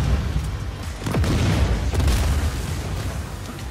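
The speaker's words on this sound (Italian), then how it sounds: "mi ha spaccato un barile di merda" A barrel explodes in the Just Cause 4 video game, a sharp boom near the middle followed by a second burst and a fading rumble of debris, with no talk over it.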